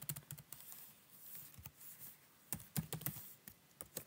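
Quiet, close computer keyboard typing in short irregular bursts of soft clicks, with pauses between the keystroke clusters.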